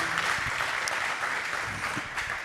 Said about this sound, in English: Can we get a big round of applause for everyone you've seen today?